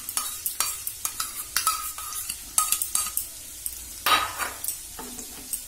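Yogurt stirred into a paste of ground poppy seeds, melon seeds and cashews, heard as a run of close, rhythmic scraping and tapping strokes of a spoon against a bowl, with no one talking.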